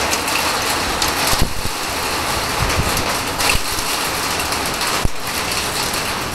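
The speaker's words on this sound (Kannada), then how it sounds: "ಮಳೆ ತುಂಬ ಜೋರಾಯಿತು. ಆನೆಕಲ್ಲುಗಳು ಬೀಳ್ತಾ ಇದ್ದಾವೆ." Heavy rain with hailstones pours down in Siddapura as a loud, dense broadband roar, with a few sharper impacts standing out above the steady downpour.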